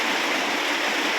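Heavy rain pouring down in Leyte, flooding the ground: a dense, loud, unbroken hiss of falling water close by, with no talk.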